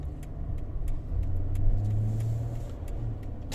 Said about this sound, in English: Let's let this pickup go